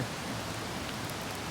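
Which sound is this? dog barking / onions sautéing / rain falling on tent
rain falling on tent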